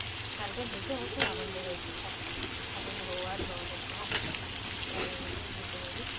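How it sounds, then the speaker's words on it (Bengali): Fried potatoes added into goat meat being cooked down in a pan, a steady close sizzle and crackle with a few sharp clinks of utensil against the pan, and a voice faintly present. "এবার আমি দেবো ওর মধ্যে আলু আলুগুলো কিন্তু আমি ভেজে নিয়ে একবারে দিয়ে দিচ্ছি"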